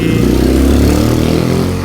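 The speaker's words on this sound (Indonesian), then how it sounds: "wah itu sudah ada motor yang berisik ya." A loud motorcycle engine runs close by on a street in Pekalongan, a steady droning roar with a slight revving swell that stays continuous for the whole moment, with faint voices mixed underneath.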